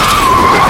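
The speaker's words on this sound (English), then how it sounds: "a black car rammed the police car and stopped by the roadside." A car skids with a sustained high tire squeal, then rams a police car on a roadside; the screech is loud and close, continuous through the whole short burst with no voices.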